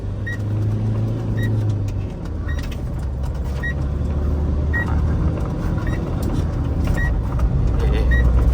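A Tata truck, just back from a clutch repair, runs steadily on a test drive with a continuous low engine drone, while a repeating high beep sounds about once a second throughout.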